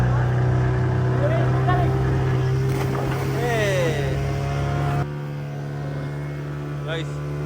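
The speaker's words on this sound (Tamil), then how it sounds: "போட் போற போக பாருங்க" A boat at a fishermen's traditional ritual in Jaffna moves on the water with a steady, close, low engine drone throughout; the tone shifts slightly partway through, and voices and calls sound over it.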